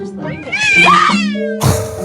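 A cat meows loudly, a drawn-out rising and falling cry, followed by a shorter second meow close by.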